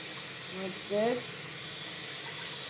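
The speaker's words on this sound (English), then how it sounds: "always good to rinse your rice" Running tap water rinses rice in a kitchen sink while black beans and rice are prepared: a steady, moderate hiss of flowing water throughout, with a brief spoken word over it.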